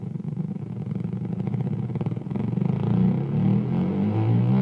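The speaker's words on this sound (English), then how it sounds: "a build-up wouldn't be complete without that sliding bass sound" A sliding bass build-up sound in an EDM track, a dense, buzzing low tone that thickens and gliding in pitch as it grows steadily louder over a few seconds, alone without voices.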